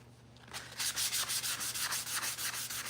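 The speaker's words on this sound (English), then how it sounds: "I'm just doing a little bit of sanding" Rhythmic scratchy strokes of hand block sanding on the body of a 1968 C10 truck, steady back-and-forth rasping at close range, about a dozen strokes after a quiet start.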